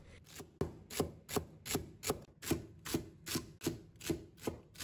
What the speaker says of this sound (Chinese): 再准备1把香芹，把它切成小丁